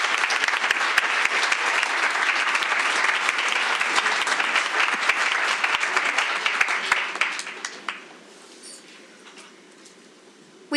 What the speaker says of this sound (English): So another round of applause for these two.